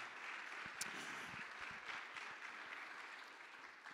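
A church congregation gives steady applause from a distance, a soft, even wash of clapping that carries on without a break and with no talk over it.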